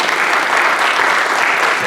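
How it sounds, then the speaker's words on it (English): A crowd at a school celebration gives a round of applause for Mr. Graves and the teachers: loud, dense, continuous clapping close by, with no talk over it. "if you could just give Mr. Graves and our teachers a round and rousing applause for their leadership"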